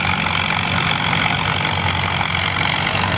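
Allis-Chalmers WC tractor pulling down the track at a tractor pull, its engine a continuous loud, harsh, broadband roar that stays steady throughout.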